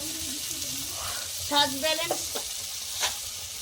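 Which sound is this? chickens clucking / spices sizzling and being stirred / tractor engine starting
spices sizzling and being stirred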